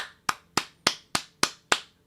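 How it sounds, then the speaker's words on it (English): Six sharp, evenly spaced claps ring out close and alone, with no talk over them, in a welcome for a podcast guest. "Give him a big round of applause."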